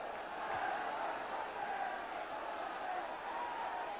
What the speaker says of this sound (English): That last move by Hull has lifted the crowd again.